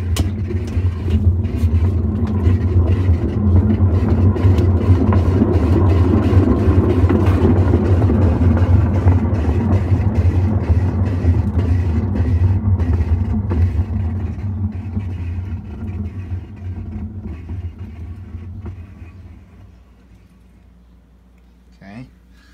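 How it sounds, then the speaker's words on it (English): A Whirlpool Cabrio washing machine drum spins with a loud, deep rumbling drone that holds steady, then gradually winds down and fades to near silence, with a faint knock at the end. "So I'm gonna spin the drum, and I want you guys to take a listen."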